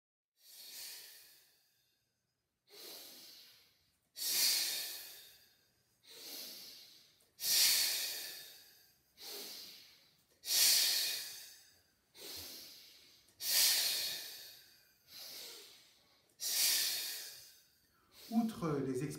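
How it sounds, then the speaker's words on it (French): Breathing exercise exhalations, about a dozen forceful airy breaths pushed out at a steady rhythm of roughly one every one and a half seconds, each a breathy hiss with pauses between, close and clear. "il existe également des expirations spontanées par le nez"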